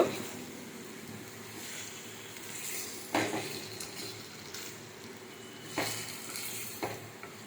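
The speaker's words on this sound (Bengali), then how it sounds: "এই ভাজছি।" Onions frying in oil in a pan, a steady close sizzle with occasional stirring scrapes and a couple of louder clatters, no talk.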